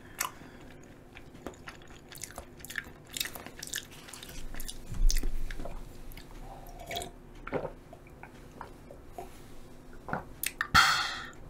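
Close-up chewing of a hotteok, a chewy Korean sweet filled pancake, eaten ASMR-style: sticky, squishy bites and mouth sounds with small clicks, continuous and quiet, no talking.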